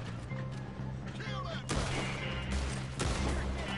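Gunfire in Red Dead Redemption 2 cracks out in a few loud, close shots spaced a second or so apart over rumbling game ambience, with faint voices in the background.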